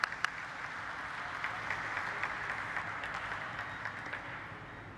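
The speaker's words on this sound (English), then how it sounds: "Let's have a huge round of applause for the dignitaries." An audience at a stock-exchange listing ceremony for Emcure Pharmaceuticals applauds the dignitaries after the lamp lighting. The clapping is soft and somewhat distant, and it holds a steady, even wash for about five seconds.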